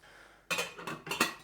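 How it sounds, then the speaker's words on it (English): A utensil stirs rice and stock in a pot, giving a few close scraping clinks against the pot in two or three quick bursts. "Give that a good stir."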